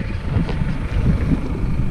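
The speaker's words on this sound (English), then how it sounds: "it's very windy, so I'm not sure if you hear this or not" Strong wind over grassland buffets the microphone with a constant loud, low roar and rumble, no voices, for the whole stretch.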